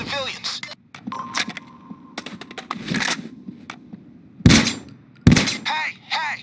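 Sharp bursts of gunfire from a Payday 2 heist at the Go Bank, scattered shots and two loud cracks standing out, with a voice talking over parts of it.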